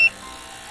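An ultrasonic cleaner filled with water and a dash of neutral detergent, cleaning small parts from a Sega Mark III paddle controller, gives one short, clear beep as it switches on, followed by a faint steady hum.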